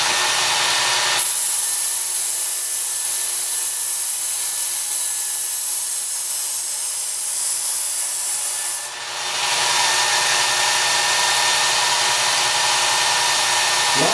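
A Work Sharp Ken Onion Edition variable-speed belt knife sharpener grinds a knife blade, a loud continuous motor whine and abrasive hiss that holds steady for several seconds, dips briefly near the end, then carries on.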